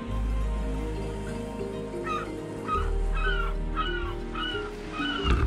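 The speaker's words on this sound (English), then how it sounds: "Birds don't like me invading their home." Seabirds calling at a cliff nesting area on the Oregon coast, a run of harsh repeated squawking calls rising over steady low wind rumble, fairly close and loud without talking.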